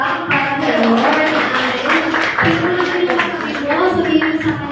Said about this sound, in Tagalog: Kung malakas sa palakpak